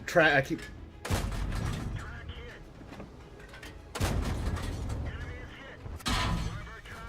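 Tank cannon fire in World of Tanks: three heavy, booming shots spaced a few seconds apart, each followed by a rumbling decay and mechanical clatter.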